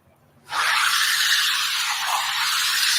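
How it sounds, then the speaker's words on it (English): Polestar 6 prototype electric roadster climbing the hill at the Goodwood Festival of Speed, a sudden loud hiss of tyres and rushing air starting after a brief quiet and holding steady, with no engine note. "Another electric car now making its way up the hill. You can hear from the sound, and that is the Polestar, the 6 prototype"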